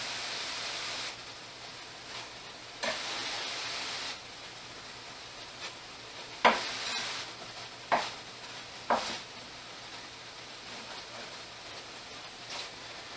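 Tomatoes cooking down in a pan for quinoa stuffed peppers, a faint hiss of sizzling broken by several sharp scrapes and knocks of stirring spread through the stretch.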